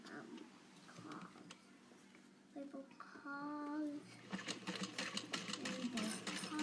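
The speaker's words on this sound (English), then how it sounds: "the stitching in the same spot over and over again" A sewing machine stitching a pouch runs in short whirring bursts, fairly close, starting and stopping under a steady hum, with a voice talking over it.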